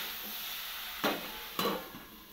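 Salted Malabar spinach and vegetables are stirred in a pan for a fish shukto, with two distinct scraping strokes over a faint sizzle, close and fairly quiet.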